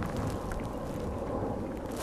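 A battery-powered boat cruises at half throttle on a lake, a steady low wash of water and soft wind noise with no distinct motor note standing out.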